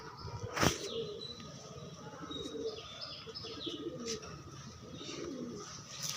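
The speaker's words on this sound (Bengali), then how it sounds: "একটা পায়রা, নর পায়রা।" A male pigeon coos in a loft setting in Howrah, West Bengal, with low, soft coos recurring across several seconds among other chirping birds, one brief sharp burst near the start.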